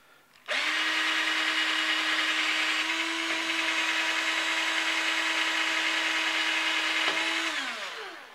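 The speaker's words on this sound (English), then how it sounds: "I've got this one set up right here, handheld drill." A handheld drill runs in a military brass case reloader, starting abruptly into a loud steady whine that holds for about seven seconds before winding down, with a faint grinding of the case against the tool.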